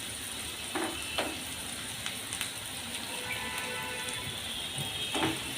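Dry red chillies fry in a pan with onion, giving off a soft steady crackling sizzle close by, broken by a few light utensil clicks and taps, and no talk.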